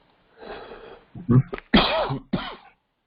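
A person coughs several times in quick succession during a Spanish-language webinar about rental property investment, the harsh bursts close and loud with brief pauses between them.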